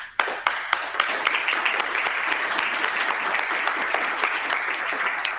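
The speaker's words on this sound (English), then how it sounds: "let me finish telling you that what you deserve is my applause." Sustained applause from an audience at a symposium on an open performance data initiative, opening with a few sharp claps that swell into steady, dense clapping across the whole stretch without talk.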